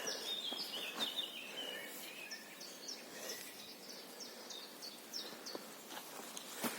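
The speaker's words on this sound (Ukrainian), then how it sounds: "пташки гарно співають в лісі." Birds sing in a birch forest: faint, distant repeated chirps and trills over a quiet, airy woodland background, with no talking.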